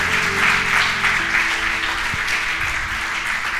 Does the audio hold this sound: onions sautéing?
no